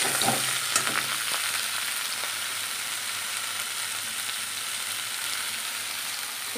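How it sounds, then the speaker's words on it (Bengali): Bitter gourd frying in a pan, a loud continuous hiss of hot oil with a few early stirring knocks, steady throughout without speech. "উচ্ছেটা একটু কাঁচা কাঁচা আমরা ভাজা করি,"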